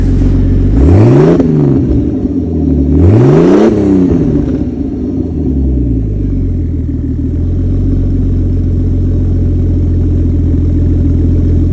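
A Mercedes-Benz M103 turbo engine with a stainless exhaust revs hard twice to about 3,000 RPM in quick succession, then falls back to a deep, steady rumbling idle with a throaty exhaust tone, loud and close.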